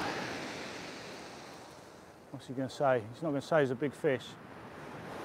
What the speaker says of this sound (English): You can see how the waves are breaking behind me.